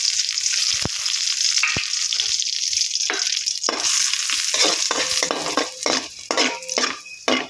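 Cashews and almonds sizzle and crackle in hot ghee while a spoon stirs and scrapes against the pan, with clinks growing busier toward the end.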